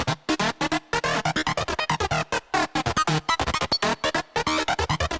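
A rapid, choppy run of short synthesizer sequencer preset notes plays in a stuttering rhythm, each burst cut off by gaps, loud and close with no talking.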